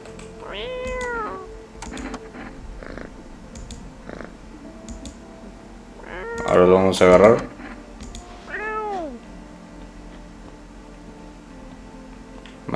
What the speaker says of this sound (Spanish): Vamos a acariciar al gato un poquito más.